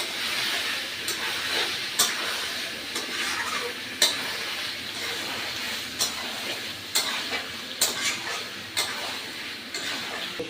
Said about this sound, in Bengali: এখানে আমি দিলাম সেই কাজুর পেস্টটা, যে কাজুর পেস্টটা আমি করে রেখেছিলাম। ভালো করে মিক্স করে দিচ্ছি।